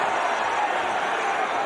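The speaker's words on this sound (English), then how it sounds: "The crowd like this." An arena crowd at a professional boxing match roars in a dense, continuous wash of cheering and murmur, loud and steady.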